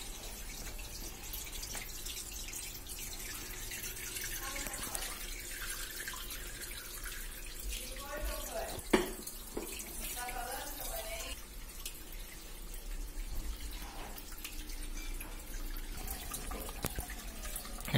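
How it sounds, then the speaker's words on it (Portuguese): Water runs steadily from a tap or hose into a small outdoor pond of colorful carp, a continuous trickling and splashing with a few dripping accents, fairly close and alone without talk. "Encher o laguinho de novo."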